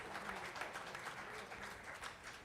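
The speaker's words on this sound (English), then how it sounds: "Let's have a huge round of applause for him" A crowd at a startup founders' event applauds a founder and CEO, with steady, dense clapping filling the whole stretch at a moderate, somewhat distant level.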